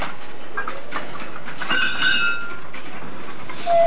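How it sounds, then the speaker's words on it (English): Wagons of a fast freight train being shunted and stowed in a rail yard, with metallic clanks and brief squealing tones of wheels or couplings at moderate distance over a steady low rumble, no voices. "In the yard, they're stowing the wagons of the 448 Bristol Leeds fast freight."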